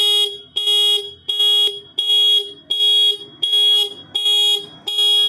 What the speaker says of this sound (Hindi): जैसे स्विच को पुश करेंगे देखिए हॉर्न वर्क कर रहा है